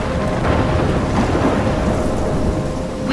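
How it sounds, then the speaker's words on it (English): A video-game thunderstorm rumbles with loud, close thunder over heavy, hissing rain that beats steadily throughout, with no voices. "I'm trapped in a storm?"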